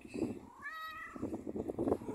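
A pet cat lets out a single clear, rising-then-falling meow near the microphone, framed by a woman's affectionate chatter before and after.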